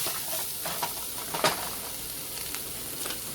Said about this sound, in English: a 1/2 teaspoon of some cumin. Mix that in.